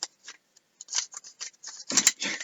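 Scissors snip in short, crisp bursts at close range, several quick cuts separated by brief pauses, while trading cards from a 2008 Upper Deck First Edition set are handled nearby.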